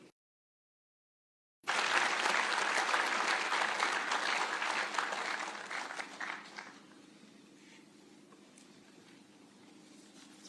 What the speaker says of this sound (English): One more round of applause for the VC.